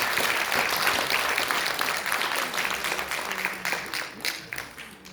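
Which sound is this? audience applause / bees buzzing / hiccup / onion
audience applause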